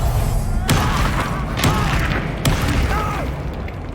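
Expulso and Confringo spell blasts in the Hogwarts Legacy video game land as three sharp, booming hits spaced about a second apart over a steady bed of game noise and music.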